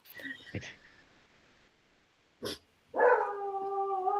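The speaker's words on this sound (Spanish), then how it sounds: "Se están hablando, mi perro también que tengo acá," A dog at home barks in short bursts, then breaks into a sustained wavering howl, heard close, amid brief background voices.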